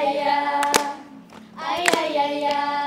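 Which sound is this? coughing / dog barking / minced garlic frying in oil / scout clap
scout clap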